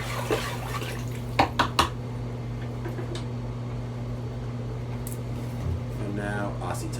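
Coco nutrient solution is stirred in a container, with a few light knocks and clinks against the sides over a constant low hum.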